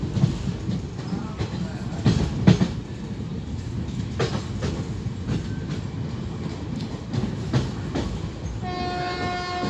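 A passenger train hauled by an electric locomotive rolls past on Indian Railways track, its rumble joined by clickety-clack wheel beats over rail joints and a sustained horn tone near the end.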